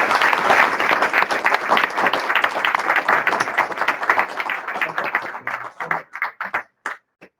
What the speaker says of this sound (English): Can we give a round of applause to the speakers, please?